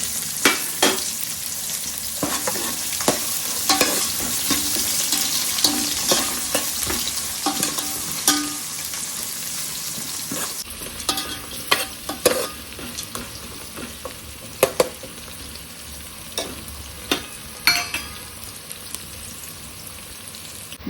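Chopped onion sizzles steadily in a hot pan for Agri-style mutton curry, with repeated scraping strokes of a spoon stirring it; the sizzle is dense at first, then thinner with sharper spaced clinks toward the end, with no talking.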